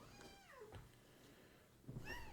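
A pet cat meows close by, two drawn-out rising-and-falling calls with a pause between them, soft and alone in a quiet room.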